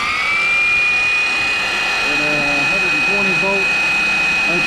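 A small 6 inch low-head hydro turbine spins up with a steady high whine that rises and then holds, under rushing water noise, while someone talks over it.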